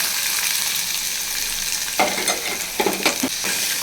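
Chopped onion fries in a pan with minced garlic for tomato thokku, giving a steady close sizzle broken by several scraping stirs of a spoon in the second half, with no voice.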